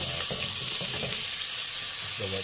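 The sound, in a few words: chicken skin frying to render oil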